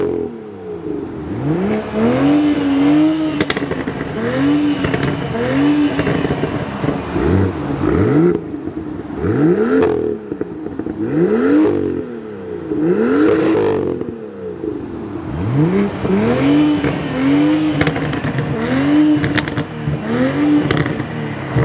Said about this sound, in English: I'm about to hop in the M2 right now and rev it up